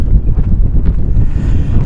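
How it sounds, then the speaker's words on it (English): Gusty wind buffets a sailboat anchored in Martini Cove near San Carlos, Mexico, a steady low rumble of wind against the microphone that swells and eases throughout, with no voices. "Kind of windy"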